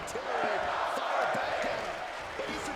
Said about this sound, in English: As I listen to the crowd.